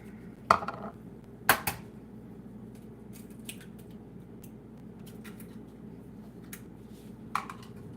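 A frying pan shifted aside on a stovetop while pumpkin spice pancakes cook, giving a few sharp, close metallic clanks spaced apart over a low kitchen hum.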